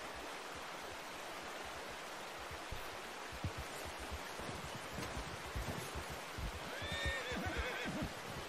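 A horse neighs and whinnies in Red Dead Redemption 2, with hoof clip-clops and a watery rushing backdrop, the whinny rising clearly near the end over steady ambient noise.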